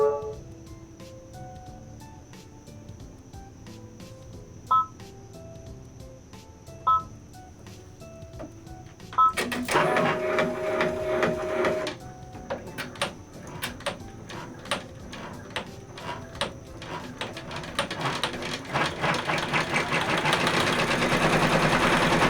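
A hat embroidery machine stitches the first section of a letter D. It starts with a few beeps and clicks, then breaks into a steady, rapid mechanical chatter that grows louder and denser over time.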